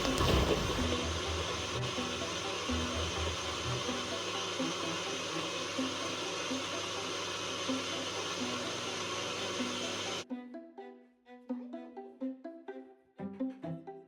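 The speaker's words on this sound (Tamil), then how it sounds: "கிரைண்டரில் வந்து ஸ்மூத்தி மேக்கர்லேயே நல்லா வந்து அரைச்சி" A smoothie maker blender grinds dates with milk, a loud steady whirring roar that runs for about ten seconds, then stops abruptly and leaves scattered clinks and knocks.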